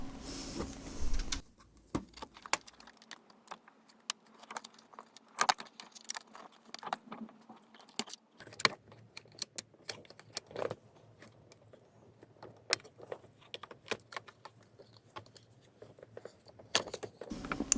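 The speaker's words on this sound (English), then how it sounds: "Just patiently unlock these latches one by one." Plastic latches on a Honda CR-V dashboard cover pop loose one at a time, giving sharp, close clicks and snaps with short pauses, plus light rattling handling noises and no talking.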